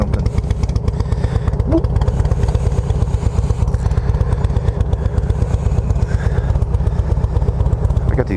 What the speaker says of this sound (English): Sounds like a damn exhaust leak or something.